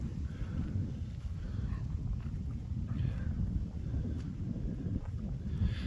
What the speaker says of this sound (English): I don't know how bad this wind is.